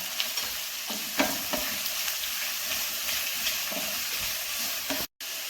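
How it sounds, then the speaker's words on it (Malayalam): Chopped onion sautéing with curry leaves and salt for egg curry sizzles loudly and steadily, with intermittent scraping stirs in the pan and a sudden brief break near the end. "ആവശ്യത്തിന് ഉപ്പും കൂടി ഇട്ട് കൊടുത്ത ശേഷം നന്നായിട്ടൊന്ന് വഴറ്റിയെടുക്കണം"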